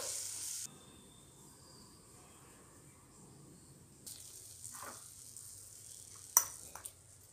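Cut okra pieces for a yogurt curry drop into a hot pan and set off a sudden, steady sizzle after a quiet stretch, with a few small clinks close by.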